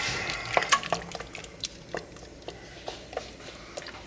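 Homemade spaghetti sauce with hamburger meat stirred in a pot with the heat just cut off, giving soft scraping and wet sloshing strokes with faint sizzling, close and fairly quiet.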